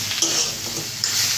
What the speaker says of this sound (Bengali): হলুদ, দিয়ে ভালো করে আবার নাড়াচাড়া করে নিতে হবে।